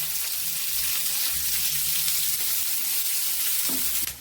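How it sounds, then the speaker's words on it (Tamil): Onion and garlic fry in hot oil in a pan until browned, giving a loud, steady sizzle with crackling throughout, plus a brief stirring scrape just before it ends. "இப்ப நம்ம வச்சிருக்கல வெங்காயம், பூண்டு அதை போட்டு நல்லா சிகப்பா வதக்கலாம்."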